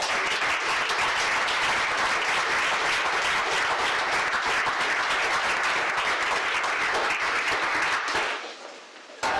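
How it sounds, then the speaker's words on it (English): Applause from a live-streamed panel discussion audience, thick and sustained for about eight seconds before dropping off sharply near the end. "Big round of applause."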